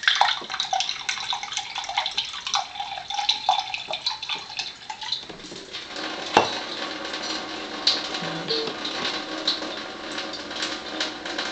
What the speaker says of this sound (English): And I go ahead and pour.